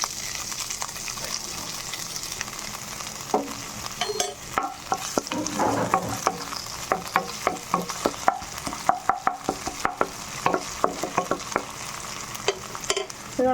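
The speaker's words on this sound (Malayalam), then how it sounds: "എണ്ണ ചൂടാകുമ്പോൾ അതിലേക്ക് നമ്മൾ എടുത്ത് വെച്ചിരിക്കുന്ന വേപ്പില ഇട്ട് കൊടുക്കുന്നു." Curry leaves, crushed ginger, garlic and green chilies crackle and sizzle in hot oil, with a steady frying hiss broken by sharp pops and spoon-stirring clatter close by; no one speaks.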